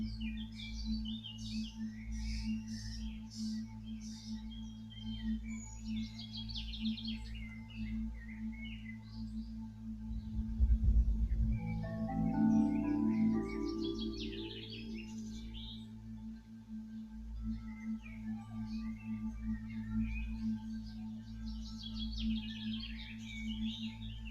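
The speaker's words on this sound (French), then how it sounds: "Profitez aussi des bruits extérieurs avec les oiseaux, la nature." Birds chirp and sing outdoors in a garden, scattered calls over a steady low hum, with a louder swelling tone near the middle.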